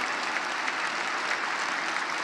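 A large commencement crowd gives sustained applause for faculty and staff, loud, dense and continuous from start to finish.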